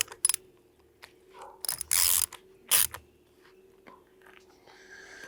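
Quick ratcheting bursts from a hand ratchet tightening a fastener on motorcycle gear, with a few short clicking runs and one longer, louder burst near the middle, close by, then quiet.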